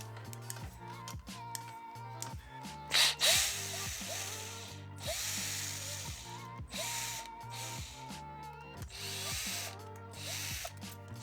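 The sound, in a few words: removing bolts from Ducati Scrambler clutch pusher plate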